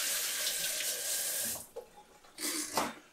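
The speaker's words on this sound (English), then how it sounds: "let me wash my hands here" Hands being washed under a running kitchen tap, a steady hissing stream of water that breaks off midway, then spatters and splashes again as the hands move through it.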